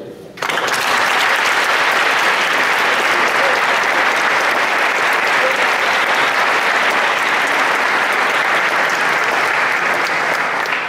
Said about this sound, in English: a rapturous applause for the Society's most honoured guest